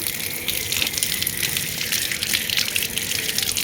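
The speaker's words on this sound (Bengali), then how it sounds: "আমি এই যে কলটা ছেড়ে দেব" Water gushes from an opened tap in a steady, full rush that holds at an even level throughout, with no talk over it.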